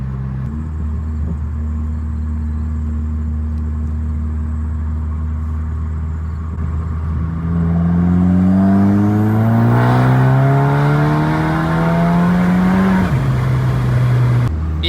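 A turbocharged VW GLI MK6.5 with an IS38 turbo swap running 28 psi of boost pulls hard through third gear, its loud engine note climbing steadily in pitch for several seconds before dropping back as the throttle closes.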